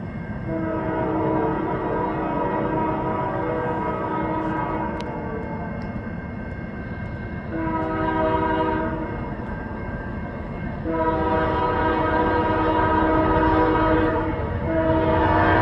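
CN freight train U763 led by locomotive 3339 passing at Ladysmith, Wisconsin, with a loud sustained multi-chime horn sounding in three long blasts over the heavy rumble of the passing train.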